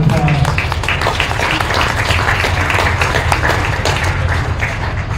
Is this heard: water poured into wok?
no